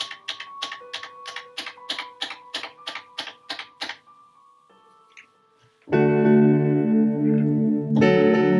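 Plucked notes on a Nord keyboard repeat in a fast rhythmic delay echo that fades away, then sustained organ-like chords swell in, loud and close.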